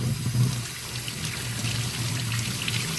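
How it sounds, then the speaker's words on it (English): Water pours and trickles steadily close by as a vapor-blasted Yamaha XJ650 Turbo motorcycle carburetor is rinsed off, a brief continuous splash with no one talking. "we are going to rinse this guy off again. a little bit more thoroughly this time."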